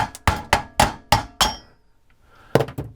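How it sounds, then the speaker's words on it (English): A small hammer strikes a garbage disposal mounting ring under a sink, giving six sharp metallic blows in a quick, steady rhythm, then a pause and two more hits, close and loud with no talking. "So you take your baby hammer."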